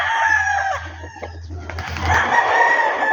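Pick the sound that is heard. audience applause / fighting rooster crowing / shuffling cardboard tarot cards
fighting rooster crowing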